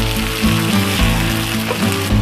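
Tomato hits a pan of frying onions and chiles and sets off a loud, close, continuous sizzle and crackle that holds steady throughout, with no voices over it.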